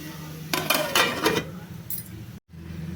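A metal lid settles onto a pan of frying raw banana, giving several close, bright clinks and clatters in quick succession, then a lighter tap, over a low background hum.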